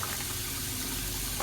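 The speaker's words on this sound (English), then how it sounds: "you want to run the water while you're snaking it" Water running steadily down a floor sink drain while it is being snaked, a close, even rushing and gurgling with no talk.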